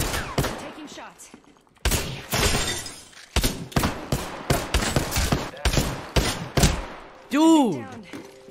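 Gunfire in the battle royale game Apex Legends rattles in loud, dense bursts and repeated sharp shots, with a brief break early on and a rising tonal game effect near the end.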